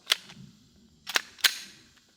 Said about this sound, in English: Let's try putting some rounds downrange on that steel target from about 20 yards.